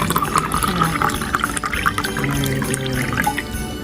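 Chocolate milk pours into a glass in a continuous splashing trickle lasting a few seconds, close and fairly loud, in a home kitchen during a child's Christmas cookie baking for Santa.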